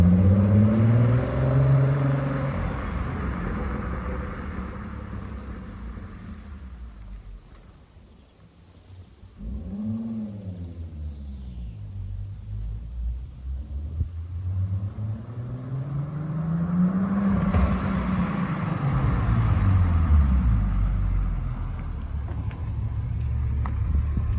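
A turbocharged VR6-swapped MR2 Roadster's engine drones low and steady from inside the cabin, pulling away in fifth gear at about 1000 RPM, pitch rising and falling as it accelerates gently, with a brief dip midway.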